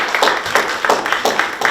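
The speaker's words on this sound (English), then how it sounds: "Can I have a big round of applause," Applause from an audience at a talk event sounds as a short burst of rhythmic clapping, a few hands beating in a loose, repeated pattern at close range, fairly loud.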